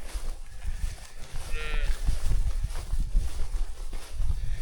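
Bulls and cows share a small pasture on a farm, with a faint low moo rising briefly through heavy outdoor rumble and wind-like noise, the animals sounding fairly distant.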